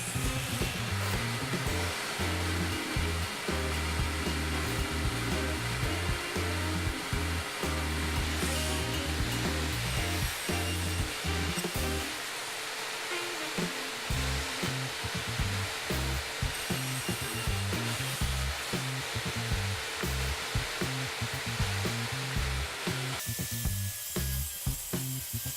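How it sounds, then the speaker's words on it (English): A circular saw fitted with a 235 mm disc runs with a loud, sustained whine that pulses as it bites into the material, continuous for the whole stretch and heard alone. "With the bigger disc I can place in my circular saw, 235 mm, I get a max cutting height of 70 mm."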